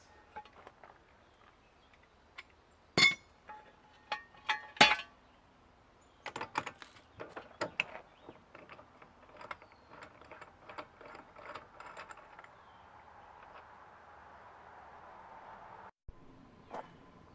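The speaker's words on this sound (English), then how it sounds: "And I'm loosening the axle nuts." Axle nuts on a MINI Cooper S are loosened with a ratchet, giving sharp clicks and clinks, bursts of ratcheting and scattered metallic taps, close by and without talk.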